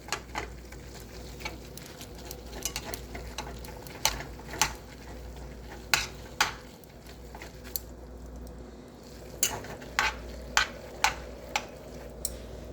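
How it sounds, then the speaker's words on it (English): Chopsticks stir a bowl of ramen with a broken egg yolk, giving scattered soft clicks and taps against the bowl over a steady low background hum, with no talking. "And you're gonna stir that all up."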